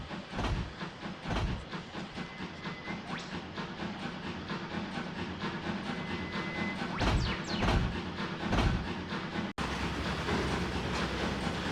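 The Flockton Flyer steam locomotive runs along the rails with a continuous rumbling, clattering roll and repeated heavy knocks and bangs, loud and close throughout with a brief cut near the end.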